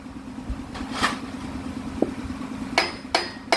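Steel rod hammered onto a pump part of an EDI engine, about five sharp metallic strikes at irregular intervals, the last three close together, over a steady mechanical hum.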